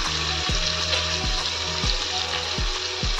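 Steady hissing sizzle of onions frying in hot mustard oil, close and continuous, with a faint low hum and periodic soft thumps underneath.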